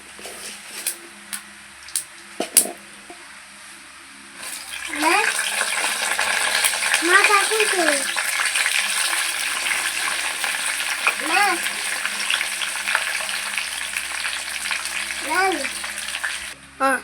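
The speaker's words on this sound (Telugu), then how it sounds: "నేను ఏడుశనగపప్పులు వేసుకున్నా అలాగే తాలింపు దినుసులు వేసుకున్నాను." Chana dal and tempering spices hit hot oil with a sudden loud sizzle that settles into steady crackling frying, punctuated by repeated stirring scrapes, after a few sharp clinks; a voice speaks at points.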